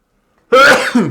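A single close, loud sneeze, a sharp burst with a brief second catch at the end, heard alone in a quiet room.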